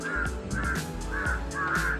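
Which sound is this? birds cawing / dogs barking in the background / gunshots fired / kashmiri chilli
birds cawing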